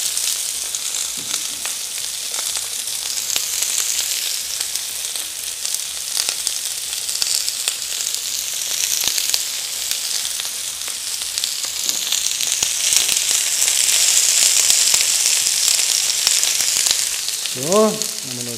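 Zucchini and peppers sizzle steadily in a pan for antipasti, a loud continuous frying hiss that swells slightly toward the end, with a few faint clinks and no talking.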